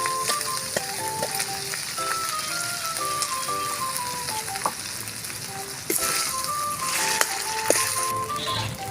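Corned beef frying in a pan with onion and garlic gives a steady, loud, close sizzle that runs throughout, with occasional crackles and light stirring scrapes and no talking.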